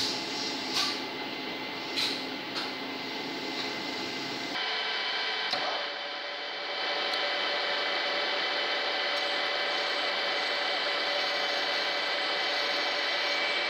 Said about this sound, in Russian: Теперь используем сверло 4 мм, чтобы в остатках болта сделать отверстие